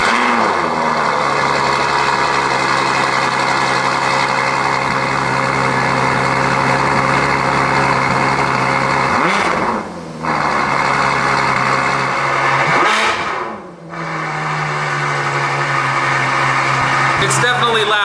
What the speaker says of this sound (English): this is gonna be one of the last stock cold starts in the Ferrari F12